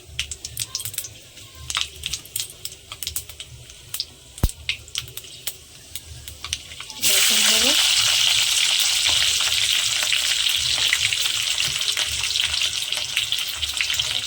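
Panch phoron and dried red chillies dropped into a hot kadai of oil: a few light taps and clicks first, then a sudden loud, dense crackling sizzle that bursts in and holds steady up close.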